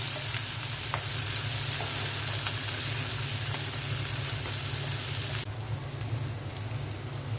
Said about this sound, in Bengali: মাছ ভাজা তেলের মধ্যে পেঁয়াজ দিয়ে দিলাম।